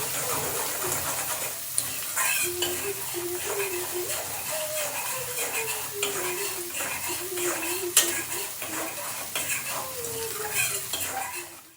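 Potato vegetable sabzi cooks in spiced oil with turmeric and salt in a pan, a soft sizzle under steady stirring and scraping of a utensil against the pan, with someone talking over it.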